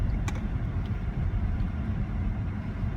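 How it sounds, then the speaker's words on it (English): A BMW 7 Series accelerates in comfort mode, its engine and road noise forming a steady, loud low rumble heard from inside the car, with no talking. "this car goes up to decent speed without any trouble"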